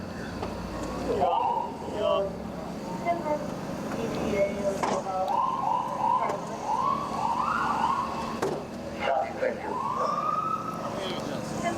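An ambulance siren wails, sweeping up and down at a moderate distance as the ambulance departs a mock crash scene, while a person speaks briefly over the radio, amid steady background rumble.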